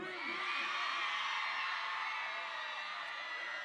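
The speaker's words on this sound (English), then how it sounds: "Can the ladies scream?" A crowd of women at a live concert screams together in a loud, sustained, high-pitched roar that holds steady without break, with no clear speech over it.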